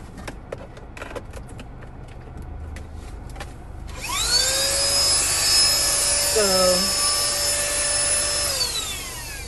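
A SYAYVO 8000Pa handheld car vacuum whirs to life after some clicking, running as a loud steady high-pitched whine with a brief dip in pitch midway.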